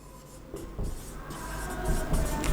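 Writing on a board during a lecture, with a few close scratching and rubbing strokes over a steady background hum and no clear speech.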